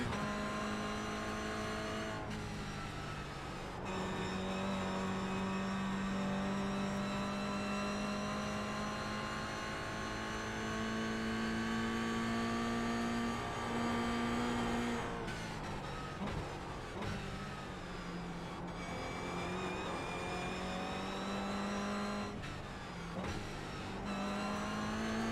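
A race car engine in a sim racing game screams continuously with a high straight-cut gear whine, pitch dropping at each shift and climbing again, several shifts in a row.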